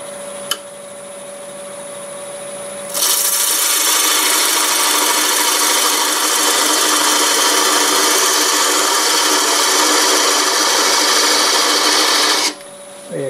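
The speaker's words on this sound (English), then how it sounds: "I'll use my parting tool for that." Lathe parting tool cutting into spinning walnut, a loud, continuous harsh scraping that starts abruptly and holds steady for about ten seconds before stopping, with a faint motor hum before and after.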